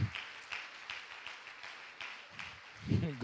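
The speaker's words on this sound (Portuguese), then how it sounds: "pode dar uma salva de palmas para o Senhor" Church congregation applauding for the Lord after a call to clap, moderately distant, steady patter of clapping across the clip with a voice briefly rising near the end.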